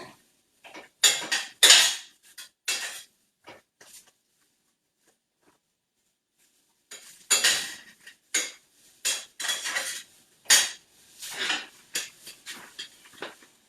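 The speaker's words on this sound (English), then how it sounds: "I'm letting the onions and the zucchini and the green peppers and mushrooms all come together" Onions, zucchini, green peppers and mushrooms cooking together in a pan, heard as scattered clinks and scrapes of a utensil against the pan in irregular bursts, with a quiet gap in the middle.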